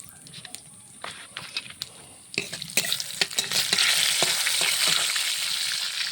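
Whole cumin and two bay leaves drop into hot mustard oil with a few clatters, then a loud, steady sizzling and crackling builds up close by.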